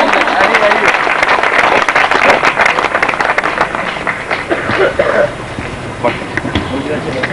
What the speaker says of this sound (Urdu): ان کے لیے بہت ساری تالیاں